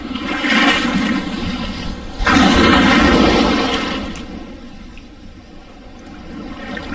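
Ocean water rushes loudly around someone standing in the sea at sunrise, a close wash that swells, surges again, then recedes to a softer hiss.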